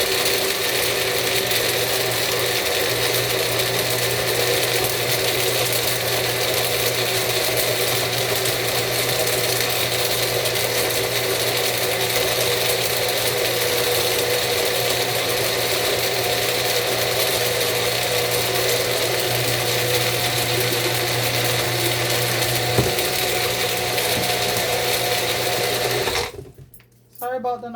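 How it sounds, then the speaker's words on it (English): A juicer motor runs continuously while detox juice is made, giving a loud, steady mechanical whir and grinding hum with a faint rattle, before cutting off abruptly near the end. "sorry about the noise, folks, but you know that's how it is with these machines."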